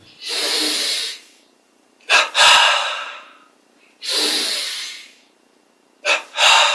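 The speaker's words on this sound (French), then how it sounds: "On prend une double inspire et on relâche bien." Two quick, sharp inhalations followed by a long, steady exhale, repeated twice during a breathing exercise. The breaths are close and loud, with brief silences between each cycle.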